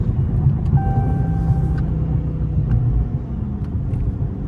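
A Dodge Scat Pack driving at night produces a deep, steady engine rumble from inside the cabin, loud and low with a faint whining tone over the drone, no talking.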